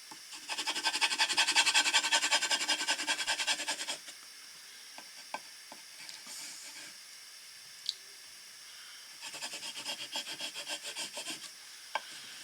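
Hand rubbing across a surface masked with painter's tape, a steady dense scrubbing for about four seconds, a quiet pause with small ticks and clicks, then a second softer bout of rubbing near the end.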